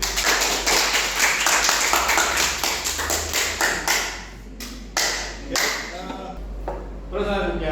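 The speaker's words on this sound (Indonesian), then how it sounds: "Tepuk tangan buat kalian sendiri." A class claps for themselves, with sharp, distinct claps in an uneven rhythm that thin out into a few scattered, louder smacks, over a low steady hum, with some voices in between.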